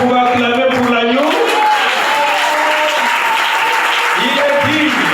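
A church congregation applauding and cheering for the Lamb, a loud, steady wash of clapping and shouting voices with rising vocal cries layered throughout, sustained without pause.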